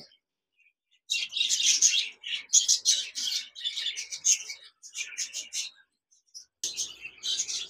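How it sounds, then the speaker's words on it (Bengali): A pair of lutino red-eye budgerigars chirp and chatter in rapid, bright bursts, close by, with short pauses between flurries of warbling. "এখানে দেখতে পাচ্ছেন একজোড়া বাজরিগার পাখি রয়েছে, লুটিনো রেড আই।"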